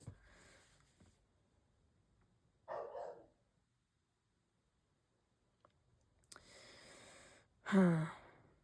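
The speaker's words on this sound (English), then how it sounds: "Oh, don't mind my dog." An indoor dog makes a couple of short, separate bursts, a brief bark-like huff and then a louder bark near the end, with quiet breathy sounds between long stretches of near silence.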